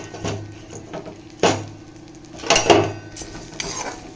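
Chana dal and coriander seeds are dry roasted in a pan, heard as a series of close clattering scrapes and knocks of a spatula against the metal, irregular and fairly loud.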